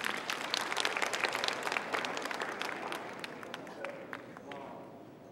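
An audience at a science creativity concert claps for three participants called up on stage, a brisk, fairly close burst of applause that gradually fades over several seconds.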